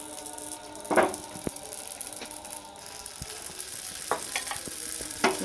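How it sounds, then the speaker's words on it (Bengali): Rotis frying in oil in a pan make a soft, steady sizzle up close, broken by a few sharp clicks and scraping touches from turning them, with no talking. "আমি তেল দিয়ে ভেজে নিচ্ছি রুটিগুলো"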